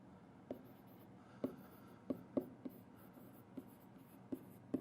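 Marker or chalk writing on a board during an anatomy and physiology lecture, with a series of short scratchy strokes and taps spread irregularly over a quiet room hum, no talking.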